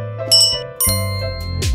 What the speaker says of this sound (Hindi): मैं बस घंटी बजाऊंगी